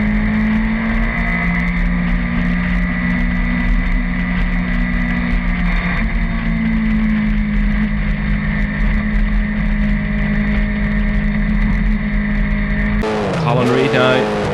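Race cars roar past at the Kirkistown circuit, a loud sustained engine drone with shifting pitch throughout, ending in a sharp Doppler sweep as a car passes close.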